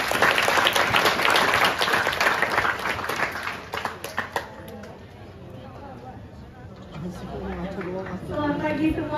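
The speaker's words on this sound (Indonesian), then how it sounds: "Beri tepuk tangan ya teman-teman." A university education gathering audience applauds loudly to welcome speakers, the clapping thinning after a few seconds into crowd chatter and murmuring voices that carry on to the end.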